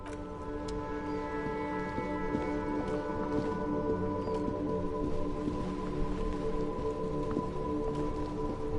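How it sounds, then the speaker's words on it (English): Steady video game rain falls in a continuous hiss of patter with scattered small ticks and drops, holding an even level throughout beneath a faint tonal hum, and nobody speaks. "This rain will not let up anytime soon."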